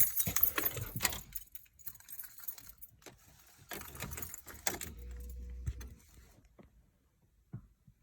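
Car keys for a MK4 VW Jetta/GTI jingle and rattle in short bursts, quiet and close, with a brief low engine-like hum partway through as the key is turned on, and pauses between the jangles.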